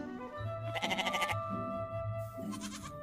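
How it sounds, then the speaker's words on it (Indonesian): Goats bleat in a herd, two drawn-out wavering cries close by, separated by a short pause over a faint background hum. "mereka disambut oleh kawanan kambing yang menunggu di perbatasan"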